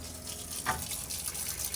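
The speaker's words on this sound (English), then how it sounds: "I'm gonna fill up with some water." A faucet briefly gushes into a newly installed single sink inside a Winnebago Navion RV, a short quiet splash of running water over a low background hum.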